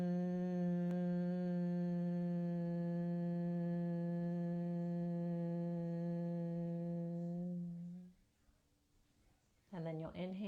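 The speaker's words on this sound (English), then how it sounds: "On your exhale, you hum it out." A steady, sustained hum rises on one long exhale as a breathing technique, holding a single rich tone for about eight seconds before fading, followed by a brief breath.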